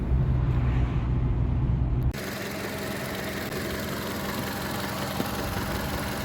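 A car engine pulls uphill while driving, a steady droning hum with road rumble heard from inside the vehicle, shifting abruptly in tone partway through and continuing evenly, moderately loud with no talking.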